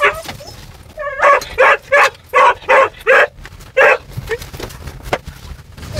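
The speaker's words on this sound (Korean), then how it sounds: "그런데 차가 움직이자 짖기 시작합니다." Border collie barking inside a moving car, a run of about seven sharp, loud, evenly spaced barks with a few short yips and whines, close up over low road rumble.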